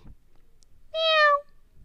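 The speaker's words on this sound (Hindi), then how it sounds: "ये आवाज़ बिल्ली की है" A single clear cat meow, close and mid-pitched, lasting about half a second in an otherwise quiet room.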